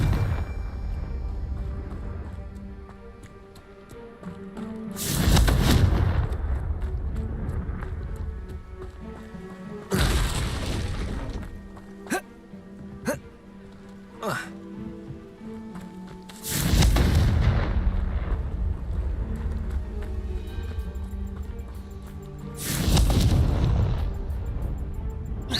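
Four heavy booming blasts from the Confringo explosion spell in the video game Hogwarts Legacy, spaced several seconds apart over continuous game music and ambience, each hitting loud and close.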